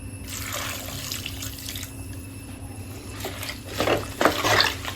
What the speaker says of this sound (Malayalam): ഇനി വെള്ളം ഒഴിക്കാം